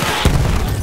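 A grenade goes off in Battlefield 1, a single dull booming thump that lands abruptly and fades into battle noise, fairly loud and close.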